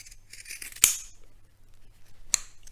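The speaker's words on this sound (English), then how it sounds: "Cut off the excess material." Scissors snip off excess fabric while sewing a pillowcase, two sharp isolated cuts about a second and a half apart, close up against a quiet room.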